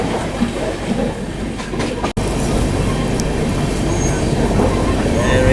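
A Vistadome coach train on the Visakhapatnam to Araku route gives a loud, continuous rumble of rolling wheels with faint rhythmic clatter, broken by one sharp momentary dropout.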